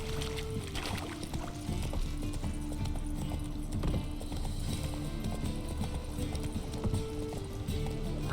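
Galloping hooves of Geralt's horse Roach in The Witcher 3, a fast, steady, close drumming that runs throughout beneath a layer of game music.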